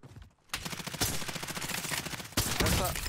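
Rapid bursts of automatic gunfire in the video game Warzone rattle close and loud after a brief quiet start, with a heavier volley near the end.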